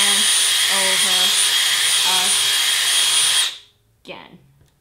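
A power drill runs loudly and steadily for about three and a half seconds while boring into a Han Solo blaster replica during a live build, then cuts off, followed by a short clatter and a brief voice.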